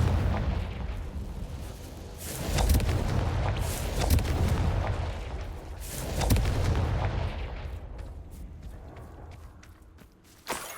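Confringo fire spell blasts in Hogwarts Legacy go off as repeated loud booming bursts with crackling tails, spaced a couple of seconds apart and fading toward the end.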